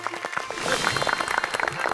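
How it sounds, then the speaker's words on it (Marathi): Studio audience applause on a Marathi television game show, a dense, steady wash of clapping that holds for about two seconds with a few faint voices mixed in. "एकदा जोरदार टाळ्या होऊन जाऊ दे."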